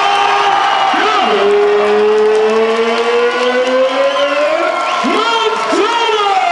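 Boxing crowd at a professional fight in Doncaster cheering and applauding after the decision, a loud continuous roar of applause and whoops under a ring announcer's drawn-out, amplified voice.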